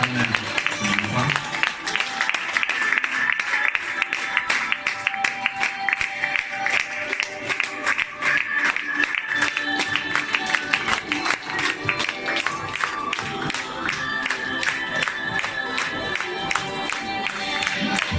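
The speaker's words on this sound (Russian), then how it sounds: "аплодисменты." Audience applause at a fashion show, dense sustained clapping with crowd cheering rising and falling over many seconds, loud and close, with a voice speaking over it.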